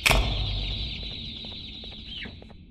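Chicken clucking from the video game Garten of Banban 2, a short burst of squawks at the start followed by repeated clucks over a steady ambient game hum, close and fairly loud.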